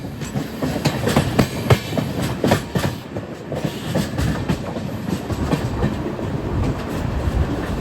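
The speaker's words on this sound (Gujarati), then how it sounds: "સામાન્ય સાઈડ તમને જે દેખાઈ રહી છે તે ભાવનગર સુરેન્દ્રનગર પેસેન્જર ટ્રેન છે" The Bhavnagar–Surendranagar passenger train passes close by on an Indian railway line. Its wheels give a loud, continuous rumble with rhythmic clickety-clack beats and no voices.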